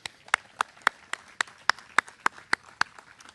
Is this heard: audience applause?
yes